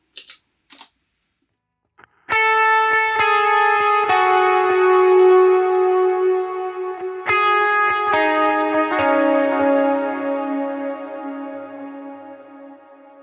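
An electric guitar fitted with Seymour Duncan Antiquities low-output humbuckers rings through an effects unit, a few brief muted scrapes, then sustained chords struck several times, each ringing out loud and clear with a long decay.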